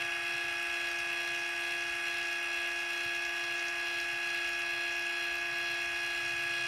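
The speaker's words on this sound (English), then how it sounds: "So you can see and you can hear that the actuator" Linear actuator motor closing a chicken coop door, a faint steady whine with a constant pitch that holds throughout.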